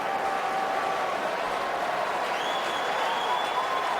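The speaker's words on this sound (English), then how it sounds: "Crowd likes it" Stadium crowd at a Saints home game against the 49ers in 2013, a steady roar of cheering as New Orleans lines up to go for it on fourth down at the 40, broad and continuous throughout with no let-up.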